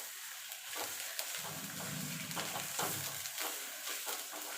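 A mashed vegetable paste being sautéed and stirred in a wok, with a steady sizzling frying hiss throughout and a few scraping stirs of the spatula against the pan, close and moderately loud.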